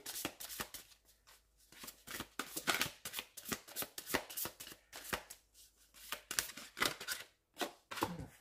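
Oracle cards are shuffled and handled before drawing, giving a continuous run of crisp papery flicks and riffles, close and fairly quiet, with no talking.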